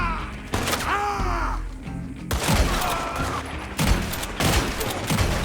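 Weapons fire in Red Dead Redemption 2 during a fight with the O'Driscolls, a string of loud gunshots mixed with game sounds and tonal effects, close and punchy throughout.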